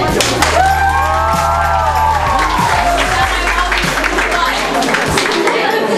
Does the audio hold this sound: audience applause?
yes